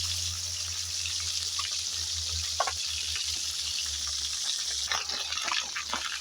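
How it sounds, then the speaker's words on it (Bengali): Koi fish frying gently in oil, a close, steady hiss with light bubbling crackle and a low hum underneath, a couple of brief utensil clicks near the end. "মাছগুলো আমি বেশি আর কি লাল করে ভাজবো না হালকা ভাজবো"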